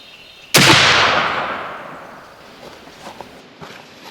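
A single loud, sharp blast from a Thompson Center Hawken muzzleloader rifle is fired at a target. It rings out with a long, fading echo, followed by faint small sounds.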